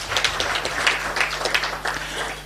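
An audience at a Pan-African Green Climate Fund event with Raila Odinga and Kenyan cabinet secretaries claps in steady, fairly loud applause that holds for a few seconds.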